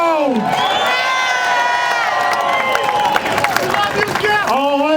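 A large rally crowd cheers and shouts continuously and loudly at a Close The Border rally in Boston, with high excited voices and whoops swelling throughout.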